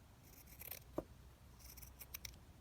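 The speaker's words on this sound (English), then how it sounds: "So I'm just going to trim this down across there." Scissors snip through lace while trimming a journal topper, a few quiet cuts around faint handling rustle, with one sharper snip standing out near the middle.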